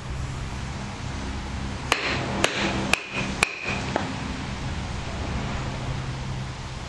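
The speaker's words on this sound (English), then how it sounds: "And now we're going to batten and make our fire." Batoning a knife through wood to make fire gives four or five sharp, hard knocks in quick succession against steady outdoor background noise, with no talk.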